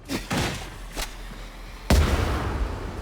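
A braced autogun fires in the Darktide video game, a few separate sharp shots spaced over a few seconds, the last one heavier and followed by a rumbling tail.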